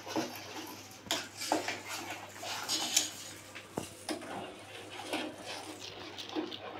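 A spoon stirs vegetable noodle soup in a cooking pot, making faint, intermittent clinks and scrapes against the metal over a quiet background hum.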